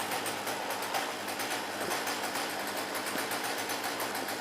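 A Poulan chainsaw engine idling, a fast steady two-stroke putter that runs evenly throughout at moderate volume, with no speech.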